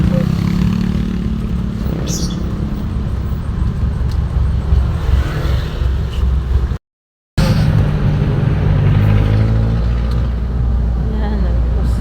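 City street traffic hums and revs close by, cars and motorbikes passing under a running murmur of voices, broken by a brief dropout to silence partway through.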